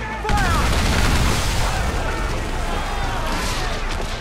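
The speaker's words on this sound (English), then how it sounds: "As we get in close, we're going to unleash the heavy shot." Heavy shot cannon fire erupts from a sailing ship during a naval battle in Assassin's Creed IV: Black Flag, a loud, dense barrage of booms rolling continuously with crackling debris and water noise.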